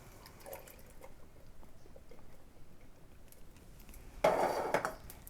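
Unrinsed canned beans and their starchy liquid are poured into a chili pot on medium heat, a faint clink and drip at first, then a short, louder wet slosh and splatter near the end.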